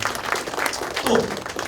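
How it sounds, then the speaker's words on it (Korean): A brief burst of audience applause at a church career lecture, moderate and steady, with a voice speaking over the clapping. "박수"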